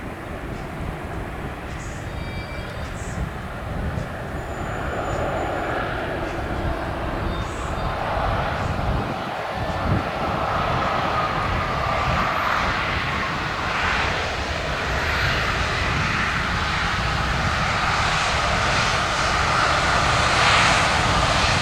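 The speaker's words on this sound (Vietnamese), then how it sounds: "bây giờ quay trở lại đường băng hạ cánh nơi chúng ta đang có một chiếc Airbus A350-900 của hãng không Turkish Airlines" A Turkish Airlines Airbus A350-900 arriving from Istanbul lands on the Tan Son Nhat runway, producing a loud, continuous jet-engine roar with a broad rushing whine that holds steady and swells slightly toward the end, with no voices.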